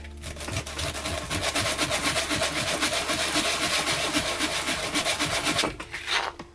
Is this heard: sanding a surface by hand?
yes